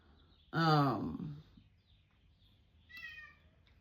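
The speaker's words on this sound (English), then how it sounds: "My cat is wanting to come in as per usual." A pet cat meows to be let in: one loud, drawn-out close meow, then after a pause a second, shorter and fainter call, with quiet room hush between and no talk.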